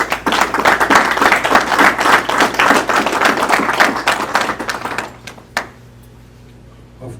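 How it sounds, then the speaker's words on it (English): A luncheon audience at a women's cancer awareness event claps for several honored ladies, a dense, close burst of applause lasting about five seconds before tapering off into a few scattered claps and near silence. "can we give these ladies a hand of applause?"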